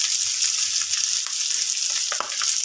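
Fried pork belly sizzles steadily in a pan while a utensil stirs it, with a few soft scraping clicks over the continuous hiss.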